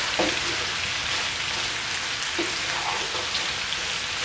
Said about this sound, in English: you can see the meat is nicely seared